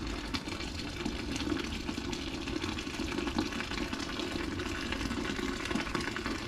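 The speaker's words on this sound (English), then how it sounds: "Add some more sap into the pan." Maple sap pours into a steaming evaporator pan during syrup boiling, a continuous watery rush and bubbling hiss that stays even and moderately quiet throughout, with no voices.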